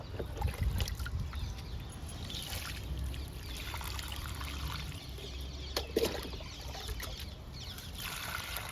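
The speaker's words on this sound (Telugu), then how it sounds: "ఇంక వాటర్ ఇస్తున్నాను." Water trickles and splashes onto the soil of a freshly repotted jasmine plant, a soft outdoor sound with faint clucking chickens in the background.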